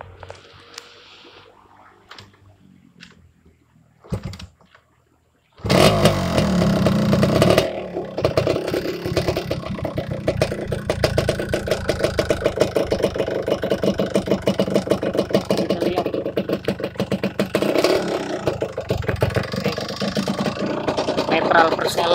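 The engine of a 1991 Yamaha RX-Z motorcycle starts after a few quiet knocks and settles into a loud, steady, rattling two-stroke idle, close up and continuous with a few small rises in revs.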